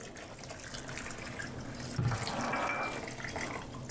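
Fresh water pours steadily into a pot for vegetable broth, making a continuous, moderately loud splashing rush that swells slightly partway through.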